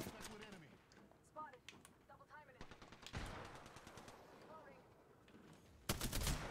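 A sentinel gun in a video game fires in sharp rapid bursts, a loud volley near the end after scattered shots, while voices talk over the action.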